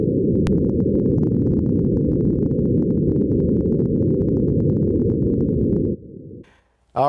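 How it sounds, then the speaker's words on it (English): Wind on Mars captured by the SuperCam microphone on NASA's Perseverance rover is a steady, low, muffled rumble that holds loud for several seconds before dropping away, with a voice starting right at the end. "That is the sound of wind coming from Mars."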